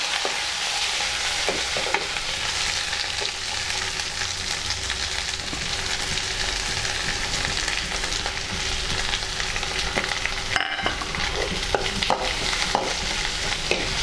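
Sliced onions frying golden in hot oil for mushroom biryani, a continuous loud sizzle with repeated stirring scrapes and a sharp clatter of the spoon partway through, no talking.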